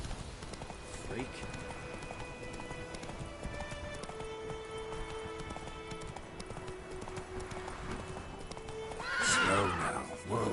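In The Witcher 3, a horse gallops with rapid clip-clop hoofbeats beneath game music and a voice, then lets out a loud, distinct neigh near the end.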